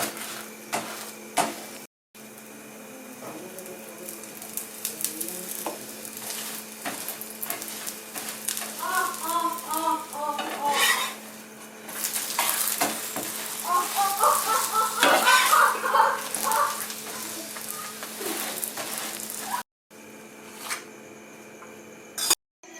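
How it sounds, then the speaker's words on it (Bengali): Lachha paratha frying on a tawa, first dry and then with oil, giving a low continuous sizzle, with scraping and turning sounds from a spatula or hand and occasional clicks throughout. "শুকনো তাওয়াতে ভালো করে ভেজে নিতে হবে তারপরে তেল দিতে হবে"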